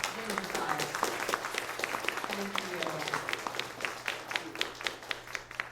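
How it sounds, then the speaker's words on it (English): Steady applause from a crowd fills the room, many hands clapping continuously with sharp individual claps, while a voice briefly speaks over it. "Let's turn another round of applause"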